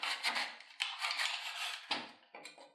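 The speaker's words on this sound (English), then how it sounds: "I used some fine sandpaper to dull the outside and inside" Fine sandpaper rasps against black ABS plastic pipe in a series of short, close, uneven strokes with brief pauses between them, and no one speaks.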